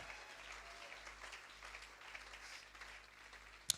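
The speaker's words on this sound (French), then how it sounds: "Acclamons pour le Seigneur." A church congregation applauds in praise, a faint, distant, steady patter of clapping over a low hum, ending with a single sharp click.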